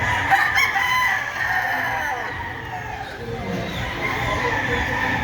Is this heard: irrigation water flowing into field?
no